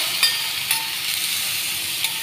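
Prawns frying in hot oil in a pan on a gas stove, a steady close sizzle and hiss running throughout with a few brief spatter pops.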